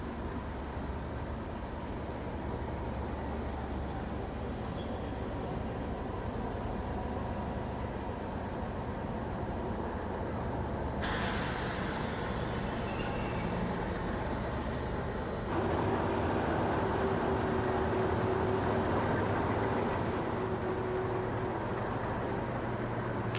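A locomotive-hauled passenger train, the 1719 service from Manchester, runs at Llandudno station under semaphore signals in 2000, giving a steady, fairly distant rumble that grows louder and fuller in the last third, with no voices.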